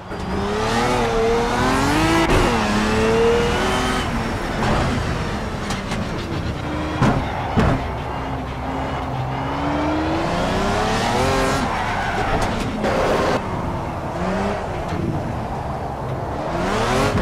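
A loud Pagani Cinque Roadster engine in the racing game Project CARS revs and drops continuously at Azure Coast, with tires squealing and skidding through sustained oversteer slides.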